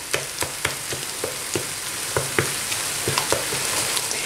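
A mixture, soon to take rice vermicelli, cooks in a pan on the stove for an Asian-style iftar menu, stirred constantly: a steady hiss of sizzling under regular scraping taps of the spoon against the pan, close and without talk.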